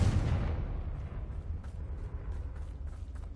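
A Confringo blasting spell detonates in Hogwarts Legacy, a loud rumbling boom at the start that rolls into a sustained low roar and crackle, with no talking over it.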